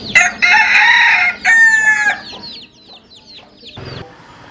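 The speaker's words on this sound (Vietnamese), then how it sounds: "đây chính là cũng lại là một chú gà trống nha" A bright orange rooster gives one loud, close crow, followed by a run of softer chirping clucks that fade toward the end.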